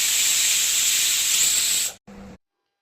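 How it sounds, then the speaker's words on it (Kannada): A pressure cooker full of pav bhaji vegetables vents steam in a loud, steady hiss for about two seconds, then stops abruptly, followed by a short, weaker puff of steam. "ಕುಕ್ಕರ್ ಲಿಡ್ ಕ್ಲೋಸ್ ಮಾಡಿ 3 ವಿಸಲ್ ತಗೋತಾ ಇದ್ದೀನಿ."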